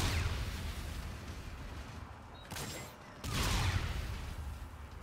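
Gunfire in a PS4 video game, loud rapid bursts and heavy explosive booms crowding the mix, with a short lull before another roaring blast, no voices over it.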